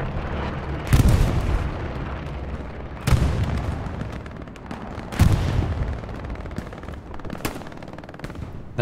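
Heavy bursts of explosions and gunfire in a competitive video game match, with four loud booms spaced about two seconds apart over steady crackling fire, a grenade blast among them.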